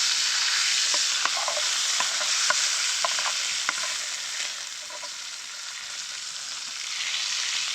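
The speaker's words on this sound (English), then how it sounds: "That's the danger of having open flame around fat. It jumps out." Fatty meat sizzles over an open campfire flame in the Canadian wild, a steady loud frying hiss with sharp pops and spits of fat jumping out scattered throughout, no talking.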